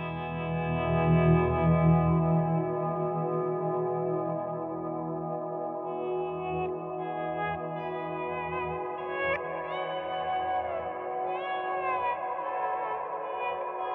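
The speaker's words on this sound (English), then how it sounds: "the 70s and 80s style reverb on the Flint, when you set the decay all the way, it's pretty much infinite" A guitar chord swells in through a Strymon Flint pedal set to 70s and 80s style reverb with decay at maximum, sustaining as a long, smooth wash that barely fades, with a few higher notes drifting in over it.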